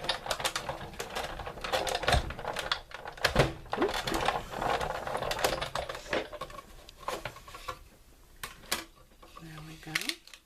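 Paper is run through a die-cutting machine with a square stitched framelit, giving a series of close clicks, clacks and cranking rattles in an irregular rhythm, with a person talking over parts of it.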